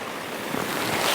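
Rain patters steadily on a tarp shelter during wild camping in the Lake District, a dense close hiss of drops with no talking.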